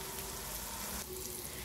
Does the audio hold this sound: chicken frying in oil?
yes